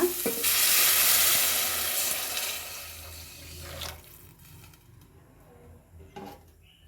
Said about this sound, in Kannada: ಬನ್ನಿ ಇವಾಗ ಇದಕ್ಕೆ ನೀರು ಹಾಕೊಳ್ಳೋಣ.